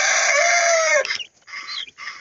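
Poultry on a farm in Costa Rica, a loud drawn-out rooster crow followed by a few short clucks close by.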